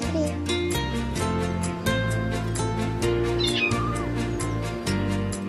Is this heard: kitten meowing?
yes